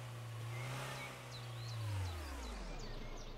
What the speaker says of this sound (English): we got some serious handbrake turns ability here